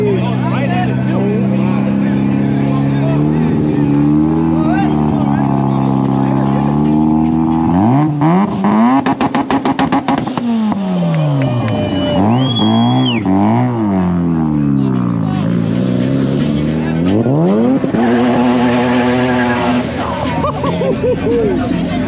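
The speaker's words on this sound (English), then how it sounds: "Man, that sounds so good. Oh my goodness, this RX-7 is so crazy." A Mazda RX-7 at a car meet, its engine repeatedly revving up and falling back with a loud, buzzing tone, close by, under excited talk and crowd chatter.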